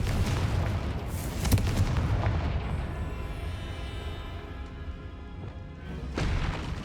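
The Confringo blasting spell goes off in Hogwarts Legacy, producing deep booming explosions with a rumbling, crackling tail, fairly distant and loud against a continuous background roar.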